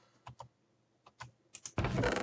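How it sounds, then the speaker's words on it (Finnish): Computer mouse clicks and key taps picked up during PC gameplay: a few sharp, separate clicks in pairs, then a louder burst of rustling clatter at the end, close to the microphone. "Joten hiiren klikkaukset kuuluu."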